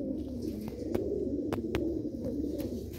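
Golden and Sialkoti breeder pigeons coo softly and steadily in a loft, a low continuous murmur with a few sharp clicks or wing taps scattered through, close and moderately loud.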